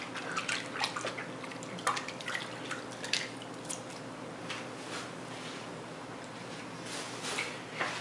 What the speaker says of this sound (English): I'm going to wash my hands off real quick